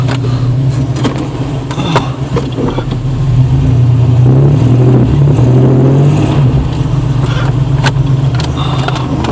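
A 4x4 truck engine revs hard on a muddy off-road trail, a loud continuous roar that climbs in pitch midway and holds, heard close from inside the cab with scattered knocks and rattles.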